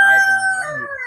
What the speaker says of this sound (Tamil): ஒரு கோழி